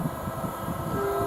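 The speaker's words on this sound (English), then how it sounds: "Now we've got another train car, I can hear it" A train rolls through Romford station, a steady low rumble with a faint high tone emerging near the end, heard up close on the platform.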